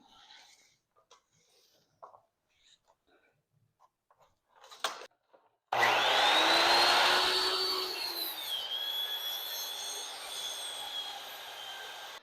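A 2x12 lumber board is cut to 30 inches with a power saw, starting abruptly mid-clip as a loud, close, sustained whine with a shifting pitch that runs steadily to the end after some quieter handling noises.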